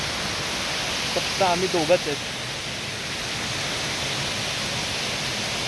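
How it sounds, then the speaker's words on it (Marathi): A small waterfall beside a mountain ghat road on a rainy day gives off a steady, even rushing roar that fills the whole scene, with a brief stretch of voices talking near the start. "आम्ही थांबलो कारण तेव्हा एक छोटासा धबधबा आहे"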